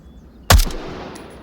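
A single sharp AKM rifle shot fired with iron sights in the VR shooter Onward, a loud crack followed by a short decaying echo, then quiet ambience.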